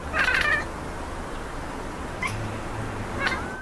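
A large long-haired Maine Coon cat meows three times, one longer call followed by two shorter ones, each distinct against a steady hiss of background noise.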